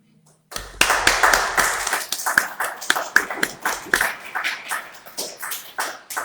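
A church congregation claps hard after a brief quiet start, sharp individual hand claps close by, loose and uneven in rhythm, gradually settling into a steadier beat.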